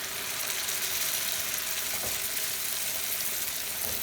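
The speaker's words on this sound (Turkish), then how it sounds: "Karıştırıyorum" Tomato sauce for salmon sizzles steadily in a pan as it is stirred, a constant close hiss with faint scraping and no voices.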